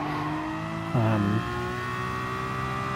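Aston Martin DP100 VGT race car in Gran Turismo Sport, a steady high engine whine with layered harmonics that briefly rises in a louder rev burst near the middle, running continuously and close without voices.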